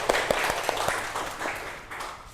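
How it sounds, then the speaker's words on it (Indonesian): A classroom group claps together, a brief scatter of hand claps that fades quickly under a murmuring room. "tepuk tangan buat semuanya"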